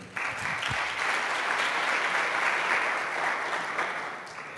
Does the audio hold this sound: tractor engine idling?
no